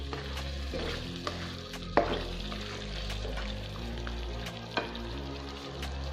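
Whole cumin seeds go into a white chicken karahi as it sizzles in the pan, a steady close frying hiss with a few light clinks and stirring taps throughout.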